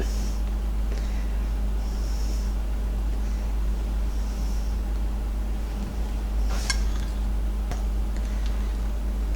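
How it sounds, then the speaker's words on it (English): Green cupcake batter being mixed for shamrock cupcakes, a steady low droning hum running throughout with occasional light clicks and taps of utensils against the bowl, close and fairly loud, with no talking. "There, we got it started now. Just mix that all up."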